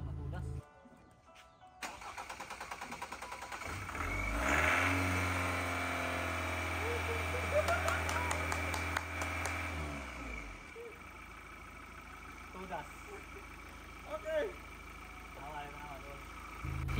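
An old car engine cranks and catches, then idles roughly and revs before settling; people talk nearby over the running motor.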